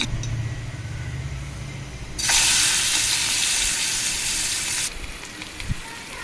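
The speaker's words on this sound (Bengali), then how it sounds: "নুন হলুদ মাখিয়ে চিংড়ি মাছগুলো সামান্য আমি একটু ভেজে নিচ্ছি।" Prawns marinated in salt and turmeric hit hot oil for a daab chingri dish, bursting into a loud, steady close sizzle that lasts about three seconds before dropping back to a low background hiss.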